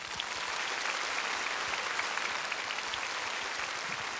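An audience at a concert gives a sustained burst of applause for two mothers, with dense, even clapping from a large crowd at moderate distance and a few faint voices underneath.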